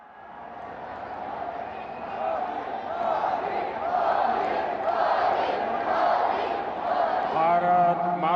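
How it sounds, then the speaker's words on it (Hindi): A large crowd at a Bhuj event for PM Modi rises into cheering and shouting that builds steadily from quiet to a loud, sustained roar, with a voice cutting in near the end. "तालियों की गूंज और हर्ष ध्वनि के साथ उनके विशेष संबोधन के लिए आमंत्रित करते"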